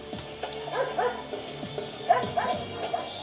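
Several dogs undergoing a veterinary inspection bark, yip and whimper in quick, overlapping bursts, fairly close and moderately loud.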